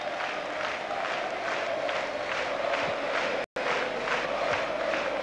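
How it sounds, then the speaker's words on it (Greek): PAOK basketball fans in the arena stands clap steadily in a dense, continuous wash of applause with crowd noise, heard from a distance across the hall, with a brief dropout partway through. "τα χειροκροτήματα από τον κόσμο του ΠΑΟΚ στην εξέδρα"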